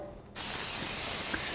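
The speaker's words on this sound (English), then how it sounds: "I'm just going to spray them just lightly, just a little bit of a spray." Non-stick cooking spray hisses from an aerosol can onto bread pans in a kitchen. A single steady, close spray lasts a little over a second after a brief quiet start.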